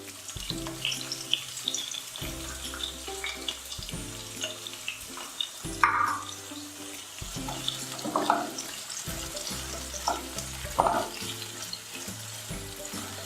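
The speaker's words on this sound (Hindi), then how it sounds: "अब मैं इसमें ये जो प्याज है वो डाल दूँगी।" Onion frying in a pan of oil for Indian-style masala pasta, a steady close sizzle with intermittent stirring scrapes and sharp spatters, no talking.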